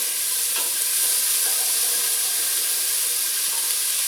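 Onions sizzling and hissing steadily in a hot pan, with a few faint scrapes of stirring over the continuous frying noise.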